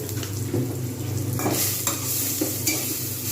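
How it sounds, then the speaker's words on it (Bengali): Onions sizzle in hot oil in a pan as a spoon stirs them steadily, with salt added and soup ingredients of winter vegetables to follow; the frying hiss stays loud and continuous with scraping stir strokes throughout. "পেঁয়াজটাকে ভালো করে ভেজে নেবো"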